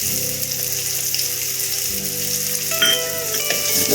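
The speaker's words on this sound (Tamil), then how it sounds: "இப்போ அடுத்தது கட் பண்ணி வச்சிருக்க பூண்டு போட்டுக்கலாம்." Chopped garlic frying in a pan on a medium flame for mushroom soup, giving a loud, steady sizzle with crackling spatters and a few stirring scrapes near the end.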